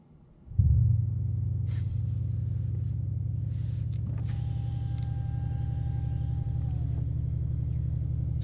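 The 4-litre V8 of a 2027 Bentley Continental GT S 671 hp coupe cranks and fires with a loud surge, then settles into a deep, steady, rumbling idle that holds nearby with faint mechanical whirs above it.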